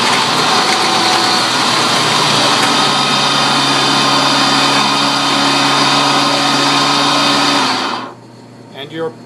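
A blender crushes ice for a drink with a loud, steady whirring roar that holds for about eight seconds, then cuts off abruptly, leaving faint rattling as it spins down.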